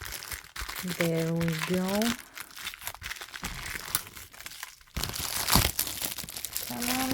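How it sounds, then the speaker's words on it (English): Tape crinkles and tears as it is peeled away from a retro childhood Barbie doll, with short crunchy bursts between spoken remarks, close up and fairly quiet. "This is taped. Let me untape it."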